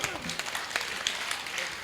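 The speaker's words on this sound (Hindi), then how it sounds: "जरा बजा ताली एक बार।" A crowd applauds steadily for a couple of seconds at a Hindi comedy poetry show, a dense patter of clapping heard from within the audience.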